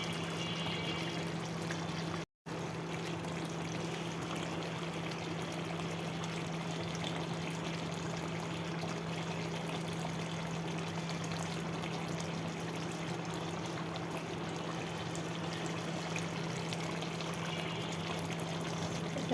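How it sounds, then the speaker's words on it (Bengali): Meat fries in hot oil with a continuous, even sizzling hiss close by, running the full length with one momentary dropout and a faint steady hum beneath. No one speaks. "তেলে কষানো মাংসগুলো কষাচ্ছি।"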